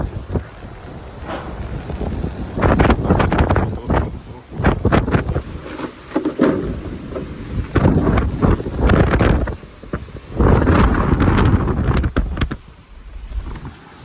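Strong storm wind in Sialkot, Pakistan roars and buffets the microphone in loud, gusting surges, with rushing noise rising and falling throughout and no clear talk.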